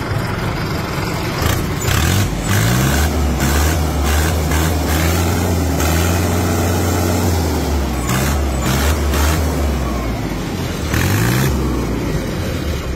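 A Mahindra Ultra 605Di tractor's diesel engine runs close and loud, a heavy low chugging with the revs rising and falling in several swells over the steady throb.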